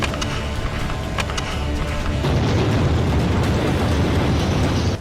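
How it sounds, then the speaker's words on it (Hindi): Loud, sustained roaring blast from an anti-tank weapon striking an Israeli Merkava tank in Gaza fighting, a dense continuous rumble that swells and holds before cutting off. "एक ही एंटी टैंक वेपन के वार से इजराइल का महंगा 75 करोड़ का मरकावा टैंक जलकर राख हो जाता है"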